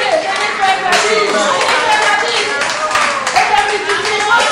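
A lively crowd claps at a good-governance gathering of African women, rhythmic and loud, with voices and shouts mixed in among the hands.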